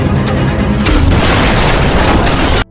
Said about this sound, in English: He takes a grenade launcher and shoots his old comrade,